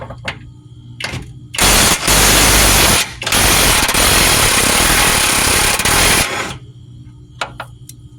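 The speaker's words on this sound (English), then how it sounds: "Now we spin our wrench around, get it on this one real easy." A wrench rattles loudly on the lower control arm bolts of a 2007-2012 Nissan Altima, firing in short bursts before a long, harsh run of about four seconds, then falling back to quieter clicks.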